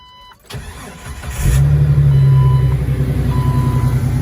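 A Jeep TJ engine cranks briefly, then catches and settles into a steady, loud idle that runs alone with no talk.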